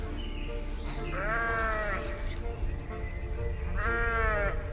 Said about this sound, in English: Infected zombie mutant sheep.